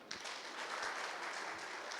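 Brief, fairly quiet audience applause in a hall, a steady patter of clapping holding for a couple of seconds.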